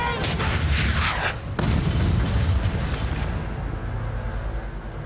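Sherman tank main gun firing: a loud, close booming blast with a sharp crack, followed by a long rumbling decay fading away.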